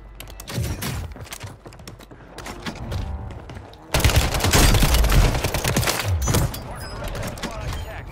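Pistol gunshots in Call of Duty Warzone on Rebirth Island, a burst of sharp game gunfire with thuds, layered among other game sounds and a talking player.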